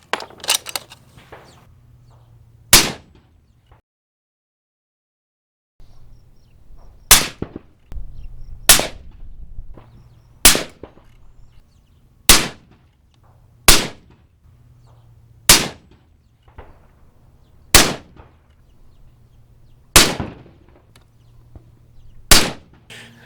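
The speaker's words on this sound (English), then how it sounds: "All right, all done shooting." Suppressed 9mm firearm fitted with a Universe-36 suppressor and non-vented end cap, firing about ten sharp, evenly spaced shots outdoors, each a crisp crack with a short decay, after an early shot and a brief silent gap.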